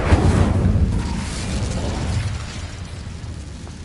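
A fiery burst from the Incendio fire spell in the video game Hogwarts Legacy: a loud, rumbling whoosh of flame that erupts at once and slowly fades over a few seconds.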